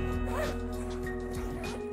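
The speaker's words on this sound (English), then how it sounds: "The main compartment has lockable zippers with oversized pulls." Zipper of an Eagle Creek Load Hauler bag being pulled open along its lockable main compartment, a close rasping zip lasting about two seconds over a faint steady hum.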